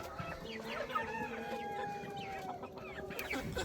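Chickens on a small broiler farm cluck and chatter at a steady low level, with a rooster-like call briefly standing out above the flock.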